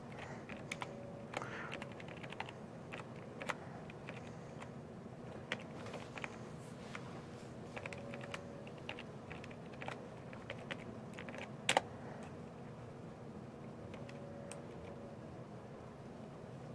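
Rapid typing on a computer keyboard during a Kinect V2 programming session: close, irregular clusters of key clicks with a few louder strokes, running over a low steady room hum without speech.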